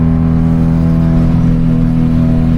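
A 1991 Saturn SL2 engine pulls under light throttle while driving in traffic, a loud, steady drone with a strong low hum and no voices over it.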